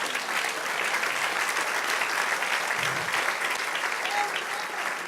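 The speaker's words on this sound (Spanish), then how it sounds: "Dar un aplauso al Señor." A church congregation breaks into sustained applause, a dense, steady wash of clapping filling the room at a fairly even level from start to finish.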